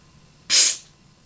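A recharged aerosol spray can, pressurized with air to about 90 psi, releases one short, sharp hissing burst of spray lasting roughly a third of a second, close to the microphone, then quiet.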